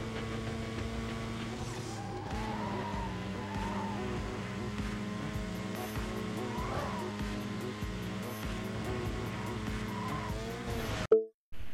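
Steady engine drone from a red Mazda RX-7 racing in a video game, with warbling tire squeal and skids running throughout at an even level before a brief glitchy cut near the end.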